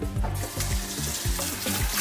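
Broccoli being rinsed under a running kitchen tap, a steady splashing rush of water into a pan with irregular clattering and knocks as the florets are moved about.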